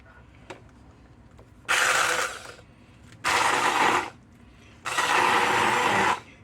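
An immersion blender whirs through canned corn and diced peppers in three separate loud bursts of about a second each, with quiet pauses and small knocks between them.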